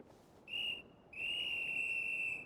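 Whistle in the video game Genshin Impact: a clear, moderately soft pure tone blown in two notes, a short toot followed by a longer sustained one.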